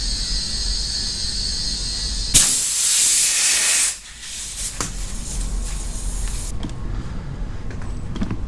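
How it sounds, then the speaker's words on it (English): Compressed air hisses loudly into a large-diameter wide tire being inflated to 45 psi on a tire changer, a sustained close hiss for about two seconds amid shop background noise and a softer hiss afterward. "We're going to take them up to 45 psi and then let them stabilize"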